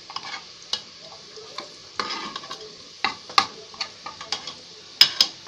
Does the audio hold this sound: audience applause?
no